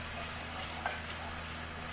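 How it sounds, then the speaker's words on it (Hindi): Masala with tomatoes frying in a pan, a steady soft sizzle that stays low and even throughout, with one brief faint clink partway through and no voices. "हमारा मसाला भुनना शुरू हो गया है।"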